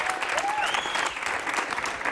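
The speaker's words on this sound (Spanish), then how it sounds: "Un fuerte aplauso para este pobre chaval." Studio audience gives loud, dense applause on a Spanish comedy TV show, a continuous wash of clapping with a faint whistle-like tone briefly rising over it.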